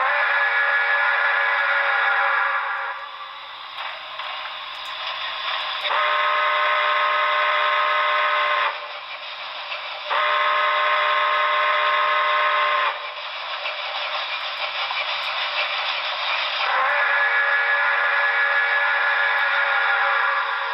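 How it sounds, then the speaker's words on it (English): Alternate steam whistle sound from a Broadway Limited NYC Commodore Vanderbilt Hudson HO model locomotive, heard as long sustained chime blasts repeated back to back with brief gaps, loud and close. "So there's those whistles back to back."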